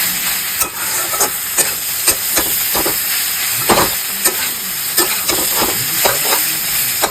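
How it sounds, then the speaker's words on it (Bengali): Ridge gourd with grated coconut and onion sizzles steadily in a hot pan, with frequent scraping stirs of a spatula, close and fairly loud, no talking. "ভাজা ভাজা হবে, ভাজা ভাজা।"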